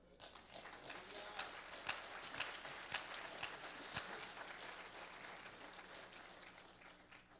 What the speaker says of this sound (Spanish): ¿Cuántos aplauden al Eterno?